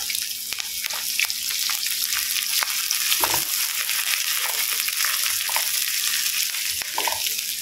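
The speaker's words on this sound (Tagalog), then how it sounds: "Pwede na natin ilagay ang ating sibuyas." Onions sauté in a pan for ginisang dilis with tomatoes, a continuous close hiss and sizzle with occasional stirring scrapes throughout.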